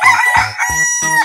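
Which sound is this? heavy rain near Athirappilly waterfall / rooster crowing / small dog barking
rooster crowing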